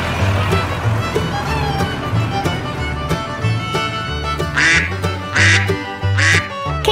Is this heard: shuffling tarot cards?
no